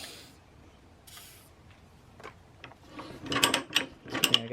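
A Harbor Freight manual pipe threader cutting threads on oiled steel pipe, quiet at first, then loud ratcheting clicks and grinding cutting bursts building toward the end, close by.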